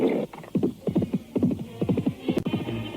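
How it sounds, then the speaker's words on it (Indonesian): A horse carrying two riders gallops fast toward the edge of a village, its rapid hoof beats thudding in a quick steady rhythm close by, with no talk over it. "Kuda yang ditunggangi Ki Sembarang dan Lara Manis melaju dengan cepatnya menuju ke tepian desa."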